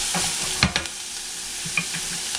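Onions sizzle steadily in a frying pan, with a few sharp clicks and scrapes from stirring over a constant soft hiss, close and moderately quiet.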